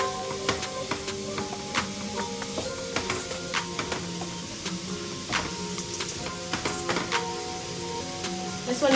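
Beef sizzles in a saucepan with no oil or butter, a steady crackling hiss punctuated by sharp spits and pops as the meat is pushed around the pan.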